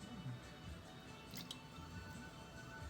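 Wet squishing and dripping as a small amount of water goes onto spinning clay on a pottery wheel, steady and close over the wheel's low rumble.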